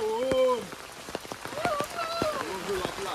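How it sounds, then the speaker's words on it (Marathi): Monsoon rain pattering steadily on surfaces in the Konkan countryside, a constant close wash under people talking throughout. "पाऊस पडतोय ना ओम"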